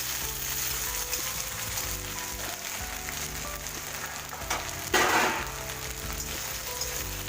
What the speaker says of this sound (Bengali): লালচে লালচে করে ভেজে নেওয়ার জন্য একটু ঢাকা দিয়ে রাখবো